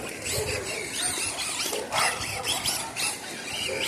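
A dog barks and yelps in excited bursts over the steady whirring motor of an Arrma RC car and background clatter.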